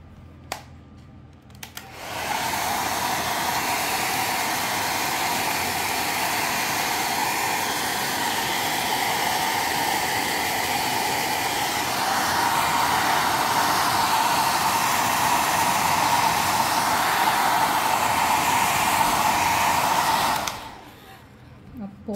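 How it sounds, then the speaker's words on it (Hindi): A hair dryer blows steadily and loudly on a crackle-painted decoupage tray for about eighteen seconds, starting and stopping abruptly, with a brief pitch rise midway. "अगर हम इसको थोड़ा सा हेयर ड्रायर अप्लाई करके देखते हैं"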